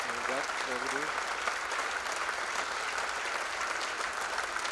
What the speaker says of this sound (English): Nice ovation and a nice crowd tonight too, Bob